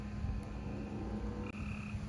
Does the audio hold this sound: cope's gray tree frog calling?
yes